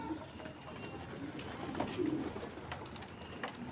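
A flock of pigeons coos softly at moderate distance, low murmuring calls overlapping in a steady background with faint ambient noise and no talk.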